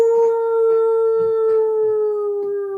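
A single long, sustained wolf howl from a sound effect plays during a tabletop role-playing session. It is loud and steady with a slowly falling pitch and sounds alone.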